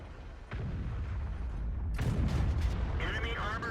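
A tank cannon shot hits a T49's turret in the World of Tanks video game: a sharp booming blast and then a heavier impact rumble with debris-like crackle, fairly muffled in the game mix.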